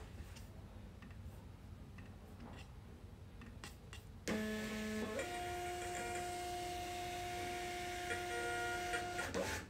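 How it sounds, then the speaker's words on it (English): A label printer runs while printing shipping labels in a quiet jewelry studio, starting with a sudden steady mechanical whir and hum with faint ticking, holding for several seconds with no talk. "now we're gonna print out our labels"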